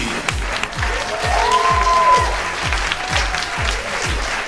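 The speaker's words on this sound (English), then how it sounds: "Make some noise. Keep clapping." A comedy show crowd keeps clapping and cheering as the host takes the stage, a broad wash of applause over a thumping rhythmic music beat, with a voice calling out over it.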